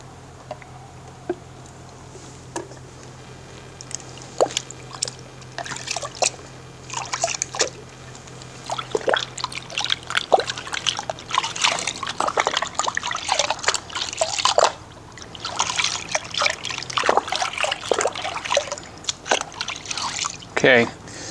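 Pressure washer spraying water into a bucket of viscous car soap gives irregular splashing, dripping and sloshing that grows busier over time, close by, with some speech.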